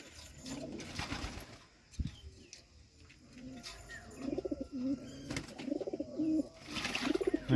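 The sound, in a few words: pigeons bathing in turmeric water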